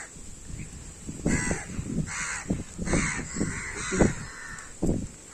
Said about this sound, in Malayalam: അപ്പം അവൻ്റെ ഒപ്പം കാക്കകളും വന്നിട്ടുണ്ട്.